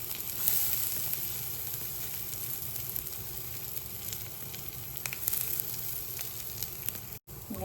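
Grated coconut with cumin and curry leaves roasting in oil, stirred steadily until it browns, making a continuous close sizzle with faint scrapes and no voices.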